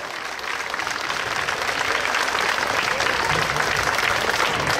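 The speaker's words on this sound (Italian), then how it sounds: "io direi di fare un grande applauso a tutte le mamme del mondo" An audience at an outdoor musical show in Petacciato, Italy, breaks into sustained applause, a thick and even roar of many hands clapping that builds slightly and holds, with no talk over it.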